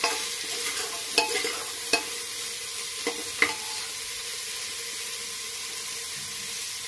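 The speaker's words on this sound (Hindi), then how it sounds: "फ्रेंड्स ये आलू है, इसको ऐड करके इसको भूनना है हमको।" Potatoes, vegetables and sprouted chana being stir-fried in a pan, a soft continuous sizzle with a few sharp scrapes and taps of a spoon scattered through, fairly quiet and with nobody speaking.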